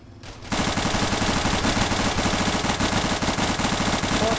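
Sustained automatic gunfire in the video game Arma 3 during a gang shootout at a bikers' saloon, a loud, rapid, unbroken rattle of shots after a brief quiet start, with no talk over it.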